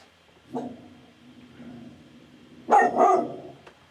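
A dog barks indoors: a single muffled bark, then a quiet stretch, then a loud double bark near the end.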